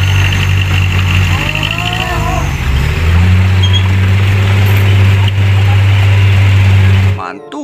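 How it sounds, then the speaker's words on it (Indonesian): A dump truck drives past with a loud, steady low engine drone and rumbling, holding strong for about seven seconds before cutting off abruptly. "Wow, mobil dump truck lagi."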